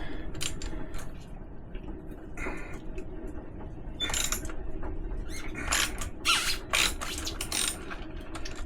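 A ratchet wrench loosens the oil drain plug on a Harley-Davidson Fat Bob 114 motorcycle. Close, rapid clicking bursts and grinding ratchet sounds come over a steady background rumble, with no talking.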